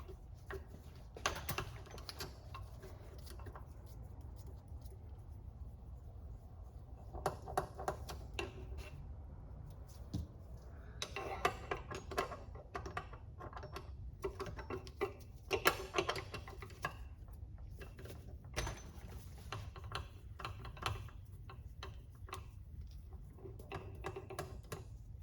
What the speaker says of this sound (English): my Allen key to remove the 4 Allen bolts for the Janus guard